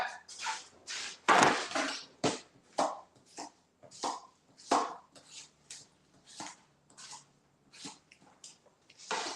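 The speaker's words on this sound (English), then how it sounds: "And then I will put in my cucumber that I have to cut up." Knife slicing a cucumber on a board, rhythmic repeated chops roughly every half second, close and fairly crisp, with no talking.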